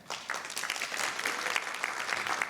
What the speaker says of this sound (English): round of applause, just clap your hands